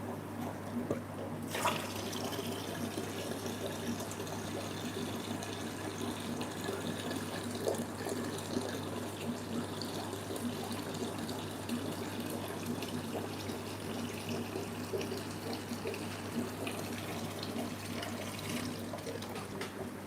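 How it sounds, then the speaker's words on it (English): Water steadily draining from a fish tank in a fishroom, a continuous even rushing and trickling flow with no pauses, moderately close and alone without talk. "Can drain a little bit of water out here."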